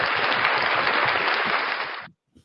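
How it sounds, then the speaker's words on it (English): A crowd of people cheers and applauds in welcome for an arriving guest. The clapping is dense and continuous for about two seconds, then cuts off sharply into near silence. "Let's give him a cheer for coming in."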